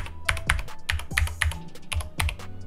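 Keys clack on a Corsair K70 MK.2 mechanical keyboard with Cherry MX Speed switches, a quick irregular patter of sharp close-up presses and thocks with brief gaps, no voices.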